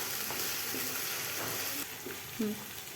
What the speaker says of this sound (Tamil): பாருங்கள் பாருங்கள் எப்படி வதங்குது பாருங்கள்